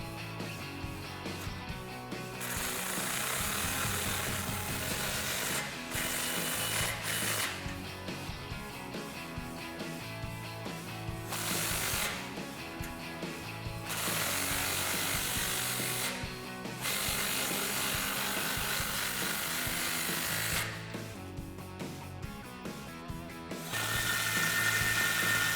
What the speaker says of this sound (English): I use a 15mm socket on these.